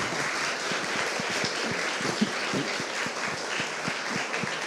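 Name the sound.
audience applause after a lecture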